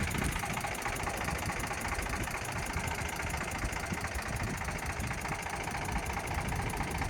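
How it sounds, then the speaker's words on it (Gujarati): An Eicher tractor with a Ricardo engine idles close by, a loud, even diesel chug with a steady knocking rhythm and rattling vibration that runs unbroken with no voices. "Ricardo engine,"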